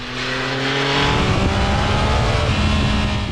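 A 2021 Yamaha MT-09 motorcycle engine revs hard and accelerates, its tone climbing steadily and loud and close throughout, with no talk.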